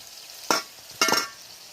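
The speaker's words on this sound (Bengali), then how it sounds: "এবার এই মশলা মেশানোর ঝোলটাকে আমি ফুটিয়ে নেব" Mustard-spice gravy for hilsa fish bubbling in a cooking pan, a steady close sizzling hiss broken by two brief louder bursts of stirring or scraping about half a second apart, with no voices.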